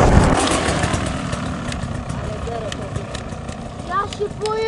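A Beta 300 motorcycle engine rumbles and idles continuously, with brief rising revs near the end while people talk over it.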